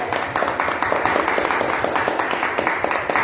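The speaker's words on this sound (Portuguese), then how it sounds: "Vamos aplaudir o nome do Senhor" Congregation in a church clapping together: a dense, loud, continuous patter of many hands in a rough steady beat, sustained throughout without pause.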